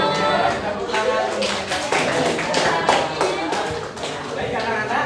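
A group of children in a classroom clapping their hands in a quick patterned rhythm, bursts of claps repeating across the clip under and between voices talking.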